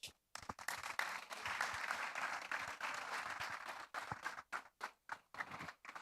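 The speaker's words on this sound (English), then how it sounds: "A round of applause for Team E." A seminar audience at a tax summit applauds, with dense clapping from a crowd that holds steady and then thins into scattered individual claps before fading out.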